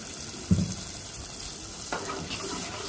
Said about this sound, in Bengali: তো এরপর একটু পানি দিব।